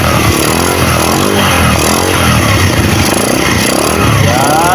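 A Honda Wave 100 motorcycle engine runs steadily after starting, following a CDI conversion from 5-pin to 4-pin, a loud close continuous buzzing idle with no talk over it.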